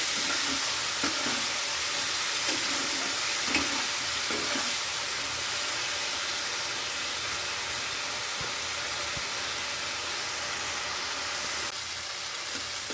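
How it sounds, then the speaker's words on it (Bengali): Ground tomato paste is sautéed and stirred in a pan for a Bengali vegetarian curry, a soft steady sizzling wash with a few faint scraping strokes early on, quiet and unbroken by voices. "বেটে রাখা টমেটো এবার ভালো করে কষিয়ে নেব"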